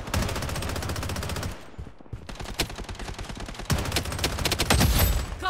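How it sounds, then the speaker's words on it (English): Rapid automatic fire in the video game Blood Strike: long, close bursts of evenly spaced shots, a brief lull with scattered single shots, then heavy sustained firing again. "Taking fire!"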